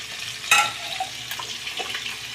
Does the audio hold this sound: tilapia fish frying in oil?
yes